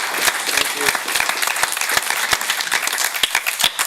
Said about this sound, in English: Please, Can we please. clap for Sean